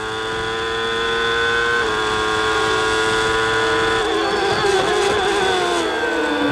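Benetton Formula 1 car with a Ford Zetec V8 held at full throttle through the S corners at Aida during the 1994 Pacific race, a loud sustained high-pitched engine wail rising in pitch, no talk over it.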